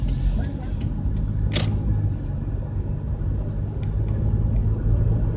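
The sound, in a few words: bus passing by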